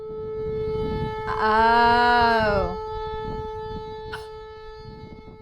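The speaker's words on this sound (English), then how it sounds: "it's likely just a malfunctioning tornado siren" A malfunctioning tornado siren sounds in stormy weather, a rising and falling wavering wail that swells for about a second and a half over a constant electrical hum, with a short voiced exclamation.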